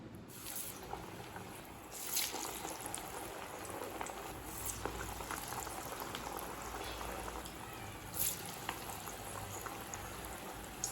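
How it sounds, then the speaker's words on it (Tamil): Spinach and lentil vadai fritters sizzle steadily in hot oil on a stove, a continuous close bubbling hiss with a few brief louder crackles and no talking. "நம்ம வடை போட ஆரம்பிச்சிடலாம்"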